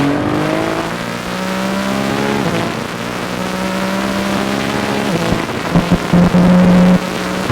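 Nissan GT-R tuned to 1900 hp accelerating hard through corners on a street drive, its loud engine droning and rising steadily, with gear changes and wheel hop or backfire bursts near the end.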